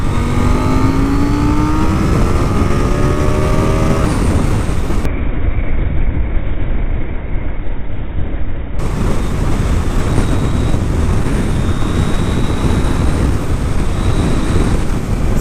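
A KTM Duke 790 motorcycle rides on a road with uneven patches, its engine revving and rising in pitch through the gears, loud and close against steady wind noise.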